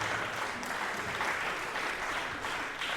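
Spectators at a Swiss women's basketball semifinal second leg give sustained, even applause that fills the arena for a few seconds, with no voices standing out.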